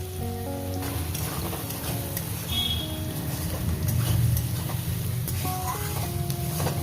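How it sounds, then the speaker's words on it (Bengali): Green chilies frying with salt in a pan for a spicy fish curry, giving a steady sizzle with scattered stirring clicks that stays constant and close throughout. "লবণ দিয়ে এটাকে আমি মিনিট দুই ভেজে নেবো"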